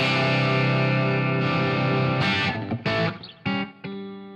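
Electric guitar played through a Fractal amp modeler with a moderate, not high-gain drive, giving a sustained crunchy chord that rings out and is followed by several short, choppy strummed stabs separated by brief silences.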